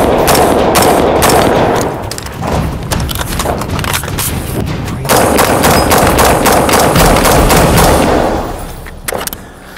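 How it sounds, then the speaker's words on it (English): Rapid volleys of loud rifle shots from a BCM RECCE-14 carbine at an outdoor shooting range, dense strings of fire with brief pauses between bursts, close and dominant throughout. "So we put about 250 rounds through this gun so far, and it's run like a champ."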